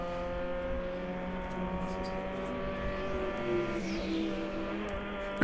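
Onboard a Clark Motorsports Mazda Miata race car lapping the track in a ChampCar endurance race at Sebring, its engine droning steadily and loud throughout with shifting harmonic pitch and a brief rise in revs.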